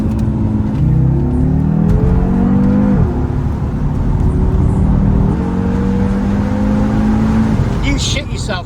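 Ford Focus RS engine pulling hard under acceleration, pitch rising through gears with a sharp drop at a shift, loud cabin drone and road roar throughout, with people talking over it.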